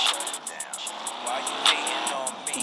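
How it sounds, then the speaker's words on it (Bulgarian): Car engine revving in the video game Gangstar Vegas, a mid-level motor drone running steadily through the whole stretch with a repeated high ticking pulse over it and brief squealing sweeps, with no talk. "Сериозно ли аз взех най-тъпата и бавна кола на света?"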